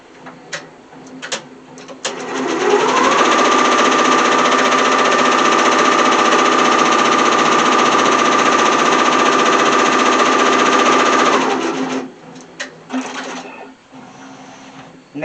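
An embroidery-capable sewing machine stitches a design onto a hooded towel, its steady, rapid mechanical whirring running loud and continuous for about nine seconds after brief clicks, then stopping with a few clatters and handling noises.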